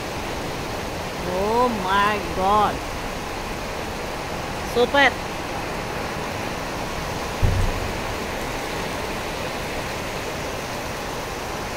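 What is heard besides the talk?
heavy downpour of rain in Bangalore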